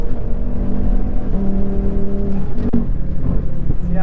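Audi RS3 rated at 740 horsepower pulls hard from a launch control start, its engine roaring loud and close in a steady, rising drone with road rumble beneath, heard from inside the car.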